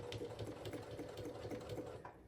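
A sewing machine stitches across a dish mat tote bag, its needle chattering in a fast even rhythm close by, steady for about two seconds before easing off.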